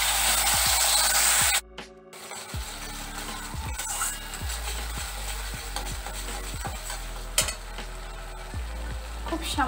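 Poppy seed paste fries in a pan over a low gas flame, giving a steady soft sizzle with scraping and stirring sounds and a few clinks close by.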